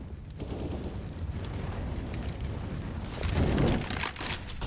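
A grenade explodes in a competitive Counter-Strike match, a loud sustained boom and rumble swelling near the end, alone with no talk.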